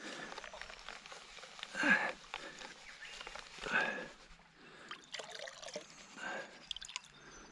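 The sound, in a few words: washing dirt out of a pan with water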